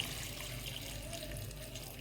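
Water poured into a cooking pot of mutton and onions with garlic-ginger paste while making karela gosht, a soft steady splashing stream heard close and alone.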